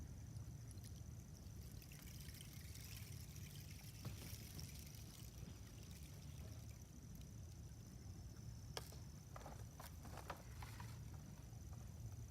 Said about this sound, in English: it's actually the seeds going down through the thorns that make that wonderful water